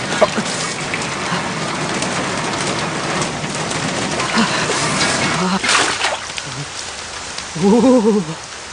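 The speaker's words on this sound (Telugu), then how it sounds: "వర్షం వస్తుంది, తడిచిపోతున్నావు." Heavy rain pours steadily, splashing on surfaces nearby, and a voice speaks briefly near the end.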